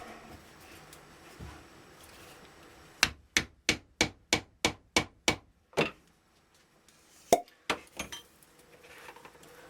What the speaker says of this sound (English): I will ram that with about 8 good solid whacks of the mallet